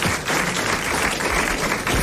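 Steady, dense applause from a French television game-show studio audience, continuous and fairly loud throughout with no break.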